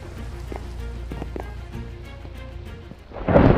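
Thunder and a lightning strike in Minecraft, low rumbling with scattered crackles over rain-like hiss, ending in a sudden loud, bright crash of the strike.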